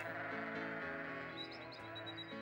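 Sheep bleating in the Babe PS2 video game, a faint wavering bleat repeated over a steady game background tone.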